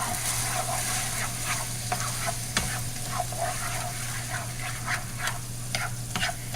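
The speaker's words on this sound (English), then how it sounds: "Stir it up." Sloppy joe mix of meat and sauce is stirred in a pan, giving a constant frying sizzle broken by repeated light scrapes and clicks of the spoon, close and clear.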